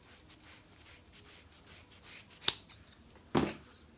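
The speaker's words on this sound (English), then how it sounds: "Next, I'll be cutting my hair in half." Scissors snipping through a bundle of synthetic braiding hair to cut it in half, soft rubbing and rustling of fibers followed by two sharp, close crunching cuts.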